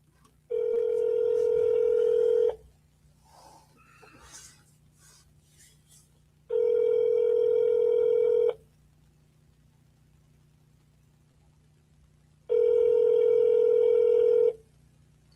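A telephone dial tone sounds in three steady two-second bursts separated by quiet gaps while calling an observatory, with faint background shuffling between the tones.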